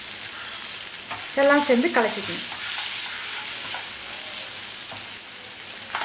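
Coriander and turmeric powder frying in a pan for a Tamil vatha kulambu, with a constant sizzle and a spoon stirring and scraping through it, while a person speaks briefly over the cooking.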